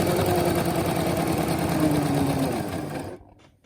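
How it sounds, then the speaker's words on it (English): A sewing machine runs steadily while stitching a straight line of fabric, a loud, even mechanical whirr with a faint pulsing rhythm that goes on for about three seconds before stopping abruptly. "as you're stitching, the fabric is being pulled backwards with the help of the, this is called the feed dogs"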